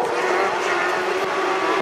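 A Renault Twingo rallycross race car drives at speed, its engine a loud, steady high-pitched roar close by for a brief moment.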